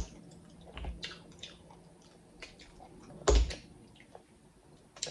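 Chewing sounds while eating spicy clams with red peppers at a mukbang, with soft, intermittent mouth noises and one louder crunchy bite near the end, close and quiet with no talk.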